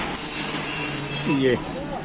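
Kohat Express train braking to a stop at Kohat station, with a steady rumble, high brake squeal and brief wheel screech as it halts, heard up close.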